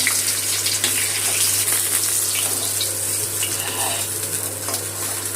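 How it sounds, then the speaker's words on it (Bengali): Tilapia fish frying in oil, a loud, dense, close sizzle that stays steady throughout over a low steady hum. "অপর পিঠটাও ভালো করে ভেজে নেব"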